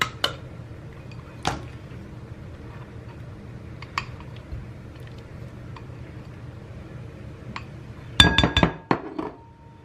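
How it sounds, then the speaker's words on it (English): Unsalted butter and sugar being mixed in a glass bowl for a low-carb chocolate cream cheese pound cake, soft squishy stirring with sparse clinks, then a quick cluster of sharp glassy taps near the end. "start by mixing your unsalted butter"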